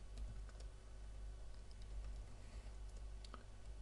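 Keys tapped on a computer keyboard in a quiet room, a faint, soft patter of light clicks running steadily beneath a low background hum.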